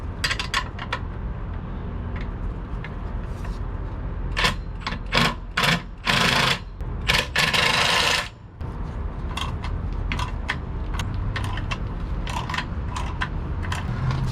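Bolts on a fifth-wheel RV's MORryde independent suspension are snugged up with a wrench, producing a run of rapid clicking ratchet bursts over steady background hum, close and moderately loud, with no talking.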